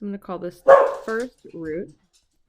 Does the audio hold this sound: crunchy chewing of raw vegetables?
no